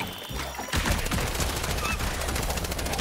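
Gunfire in the brawling video game Gang Beasts: after a brief quiet lead-in, a dense burst of rapid shots rattles on continuously, loud and close, with faint voices in the background.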